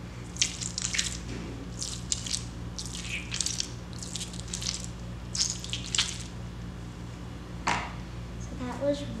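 A golden glittery stress ball is squeezed repeatedly up close, giving faint wet squishing and crackling bursts in an irregular rhythm over a quiet hum.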